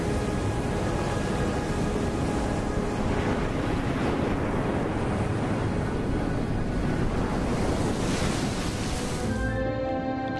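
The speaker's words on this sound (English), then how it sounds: "The secluded Costa Verde, the green coast in the southwestern part of Sardinia, is known for its strong surf." Strong surf pounds the secluded Costa Verde coast of southwestern Sardinia, a steady, loud roar of breaking waves with wind buffeting the microphone throughout, no voices present.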